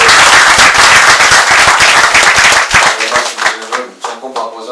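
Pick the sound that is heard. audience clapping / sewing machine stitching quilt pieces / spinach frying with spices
audience clapping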